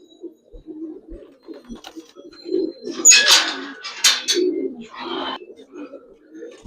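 Giribaz and Army pigeons coo in low, repeated throaty bursts close by, broken by a few louder rustling, flapping-like noises in the middle.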